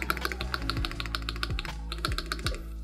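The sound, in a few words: typing on ROG Azoth mechanical keyboard, clacky switches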